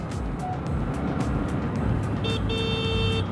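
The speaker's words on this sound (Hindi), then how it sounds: "हॉर्न से थोड़ा सा मैं डिसअपॉइंट हूँ," Horn on a Honda SP125 motorcycle gives a short beep, then a longer steady tone near the end, sounding over road traffic and engine noise.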